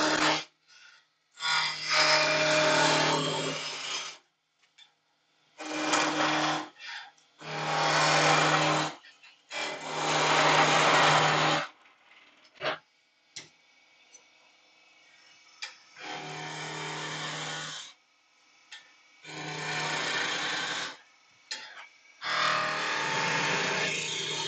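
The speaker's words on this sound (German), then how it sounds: "ich starte auch da wieder direkt mit dem Meißel" A turning chisel cuts beech wood on a lathe, giving close, rasping scraping bursts of several seconds each, separated by quieter gaps where the lathe hums.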